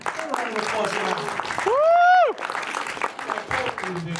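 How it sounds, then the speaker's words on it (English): Audience applause at a fan expo panel, a dense wash of clapping with a loud whoop or whistle-like cheer rising out of it midway, then clapping continuing beneath. "Round of applause for that."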